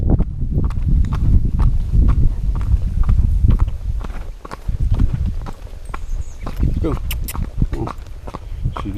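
A ridden horse, a mare on the way to Roles Chapel Missionary Baptist Church, walks with steady, close hoof clip-clops that continue throughout under ambient outdoor noise, with bits of talking in places.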